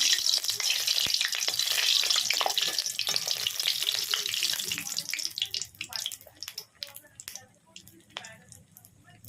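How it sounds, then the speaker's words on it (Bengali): Aloo chop, potato patties coated in rice flour and biscuit crumbs, frying in hot oil: a loud, dense sizzle with sharp crackles that thins out partway through into scattered pops and spits. "তো একটা তেলে ভেজে দেখি হয় কিনা"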